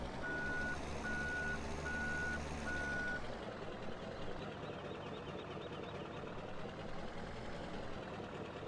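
Truck reversing beeps from the Farming Simulator 17 video game sound as an evenly spaced series of loud, steady tones over a low engine rumble for about three seconds, then stop while the engine noise carries on.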